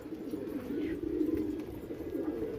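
Pigeons in a pigeon house coo in a soft, continuous, low throaty murmur, close and steady throughout with no talking.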